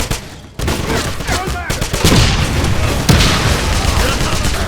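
In the video game Wolfenstein, a booming grenade explosion mixes with dense rifle and machine-gun fire in a loud, chaotic battle, while soldiers' voices shout over the din.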